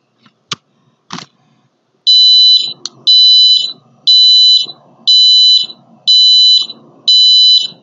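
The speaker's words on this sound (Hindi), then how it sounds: "अभी देखिए एक एक सेकंड के गैप में बजर बजना स्टार्ट हो गया है।" An Arduino-driven buzzer emits a steady 1000 Hz tone, sounding in six loud, evenly spaced beeps about once per second, preceded by a couple of sharp clicks.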